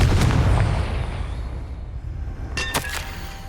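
The Confringo blasting spell in Hogwarts Legacy bursts with a loud explosive boom that fades into a rumbling tail, followed by a couple of sharp crackling pops.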